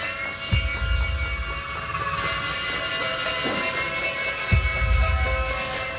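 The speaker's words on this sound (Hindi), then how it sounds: "ये हेलीकॉप्टर गार्डन में चलाने के लिए है, घर पर नहीं।" A toy helicopter flies indoors with a steady high electric whine and buzzing rotor hum that holds throughout. Its pitch shifts now and then, and low thumps come twice, with no speech.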